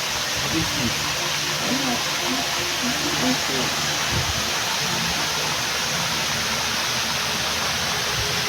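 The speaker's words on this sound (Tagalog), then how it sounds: "Ito yung tubig." Rushing water in a Roblox game, a steady loud hiss of flow filling the whole stretch without break, with faint game sounds underneath.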